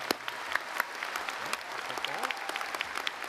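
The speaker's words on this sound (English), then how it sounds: "Let's give her a big round of applause." A commencement audience applauds an honorary doctorate recipient, with scattered clapping and a few sharper claps heard at a distance, fairly faint, with faint voices underneath.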